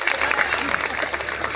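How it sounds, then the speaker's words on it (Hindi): An audience at a Hindi poetry recital (kavi sammelan) breaks into applause, a short dense burst of crowd clapping with voices mixed in. "और अब आपकी तालियां उठेंगी"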